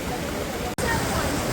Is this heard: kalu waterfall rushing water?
yes